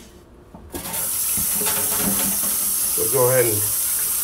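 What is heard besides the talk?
tap water rinsing a scrub pad in a sink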